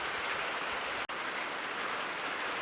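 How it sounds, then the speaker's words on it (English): Steady, dense hiss of heavy rain falling outside in a garden, continuous and fairly quiet, with a single brief dropout partway through. "I just can't believe how much rain we've gotten."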